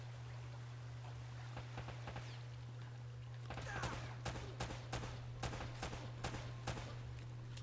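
Gunfire in the video game Uncharted: Drake's Fortune, a quiet run of sharp shots that grows into a rapid rhythmic volley over a steady hum and rushing waterfall-like noise.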